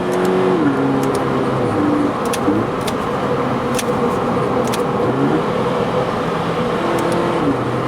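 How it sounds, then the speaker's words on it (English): A 2019 Subaru BRZ engine hums steadily from inside the cabin, its pitch rising and dropping with each quick automatic gear change as the car accelerates. "It's not dual clutch quick, but it's pretty sharp for a standard automatic."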